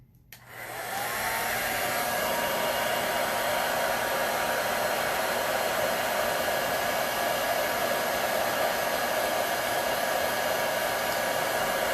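A hair dryer switches on and blows steadily to dry wet paint, a loud continuous whooshing whir that runs without a break and with no talking.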